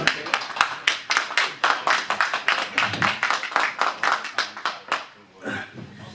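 One person clapping at a live talk event, a run of sharp, evenly spaced hand claps fairly close and prominent, which fade out near the end.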